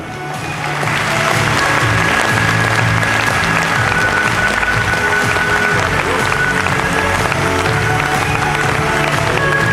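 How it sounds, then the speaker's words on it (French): Audience at a Vendée cycling presentation evening applauding retired cyclists, sustained loud clapping from a large crowd lasting nearly ten seconds. "On peut les applaudir."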